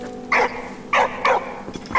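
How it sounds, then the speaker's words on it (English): A dog in Valiant Hearts: The Great War, a World War I game, barks four sharp, close times in quick succession with short gaps between them. "oh, we've got a dog."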